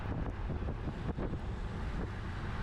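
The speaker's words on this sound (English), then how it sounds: "it wasn't a super windy day, but definitely a headwind here" Buffeting wind from a headwind during a road race rumbles against the microphone, a low, uneven roar with gusty thumps throughout, no voices.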